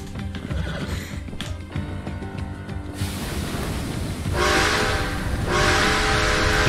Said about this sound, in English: Use whistle. That's satisfying.